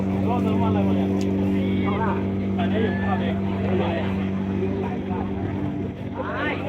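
Speedboats roar at a temple boat race in Thailand, a steady engine drone running under constant close commentary and crowd chatter.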